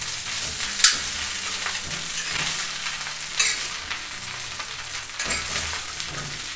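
Arroz carreteiro seasoned with chimichurri is stirred on a plough-disc pan, a steady crackling sizzle with scraping stir strokes that surge now and then.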